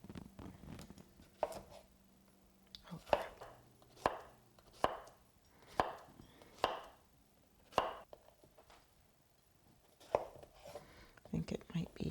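Repeated sharp knife chops through vegetables on a cutting board, about a dozen strikes in an uneven rhythm, close and crisp, with a little quiet background noise.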